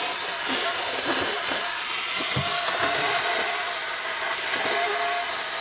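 A handheld steamer hisses continuously and loudly as it defrosts the iced-over coils of a faulty refrigerator, with a steady broadband rush and a few faint knocks and clatters underneath.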